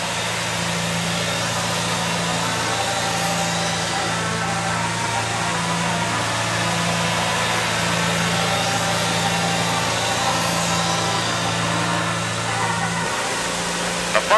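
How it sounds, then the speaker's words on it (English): A Farmall Cub tractor engine from the 1940s runs at a steady, even drone, its low rhythmic throb holding constant for the whole stretch. "The Farmall Cub is truly an all-purpose tractor"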